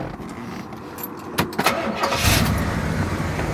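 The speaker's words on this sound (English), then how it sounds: "In fact, we'll start the engine." A 1967 Pontiac GTO convertible with a 400 four-barrel V8 cranks briefly and fires, settling into a loud, steady idle close by with no talking.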